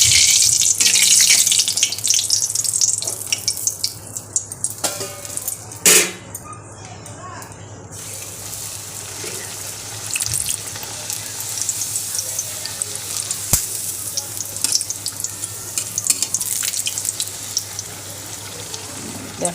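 Luchi, puffy deep-fried flatbread, frying in hot oil in a home kitchen, giving a steady, loud, hissing sizzle that runs throughout with occasional clinks and scrapes.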